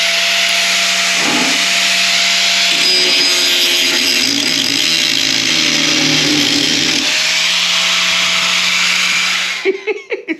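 A cheap 700–800 watt angle grinder runs close and loud with a steady high-pitched whine for about nine seconds, its tone dropping under load while cutting midway, then cuts off and ends in a few clunks.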